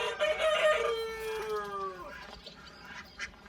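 Chickens at an animal sanctuary crow and cluck close by, a drawn-out rooster crow trailing off, followed by scattered softer calls.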